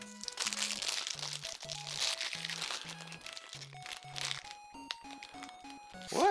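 Crinkling, crunching plastic packaging torn open around a small folding tripod for a Full HD 1080p webcam, steady rustles close up under a simple tonal melody playing throughout.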